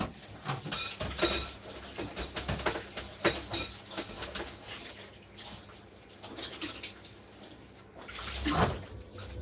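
A serving tray rinsed under a running kitchen tap, with steady splashing water and clattering handling noises throughout, growing louder near the end.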